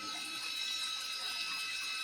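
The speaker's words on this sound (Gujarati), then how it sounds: "ઉપર ટાંકો ભરાઈ ગયો છે ત્યાંથી પાણી આવે નીચે પડે છે" Water overflows from a full tank above and falls below in a steady, continuous splashing rush that stays even throughout.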